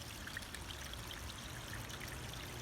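Water trickles steadily into a garden pond on a warm day, a soft continuous splashing and dribbling stream heard close up and alone, with no voices.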